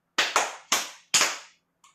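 Sharp hand claps ring out close and alone: three quick ones in an uneven rhythm, the first two nearly together, then a softer fourth trailing off.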